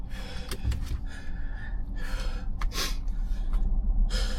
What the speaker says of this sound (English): still breathing pretty hard